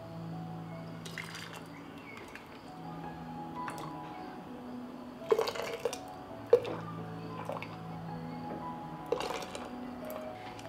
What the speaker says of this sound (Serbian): Sok je kuvan i sipam ga u sterilisane tegle.